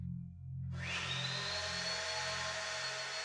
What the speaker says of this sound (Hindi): वैक्यूम चला रहे हैं, वो भी इतनी देर रात को।